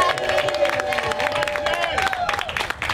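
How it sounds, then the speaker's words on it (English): Wedding guests clapping and cheering during the ceremony, a busy mix of claps, whoops and crowd voices with a sustained shout running through it. "Come on, clap your hands."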